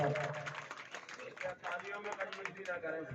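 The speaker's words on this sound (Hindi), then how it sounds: "तालियों के साथ बहुत बहुत धन्यवाद।" Applause from the audience at a bhajan competition prize-giving in Semri Harchand, dense and steady, with voices talking and calling out over it.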